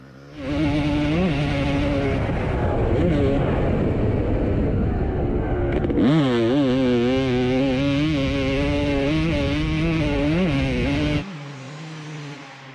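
A Honda CRF450R dirt bike engine revs hard and close, its loud buzzing note rising and falling steadily for about eleven seconds before cutting back to a lower idle.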